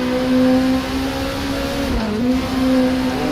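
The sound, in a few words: Nissan Primera race cars accelerating in a racing video game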